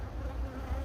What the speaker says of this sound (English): I have like 5 bees in my face